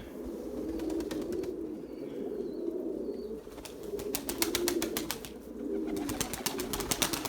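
Erzurum white pigeons, a purebred flock, coo steadily and flap about outdoors at dusk, with repeated bursts of wingbeats and soft murmuring calls close by.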